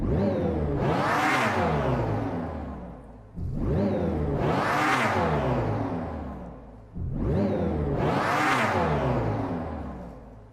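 The Dodge Charger Daytona SRT electric muscle car concept sounds off in three sweeping roars, each rising and falling in pitch like a revving engine, loud and close with brief gaps between passes.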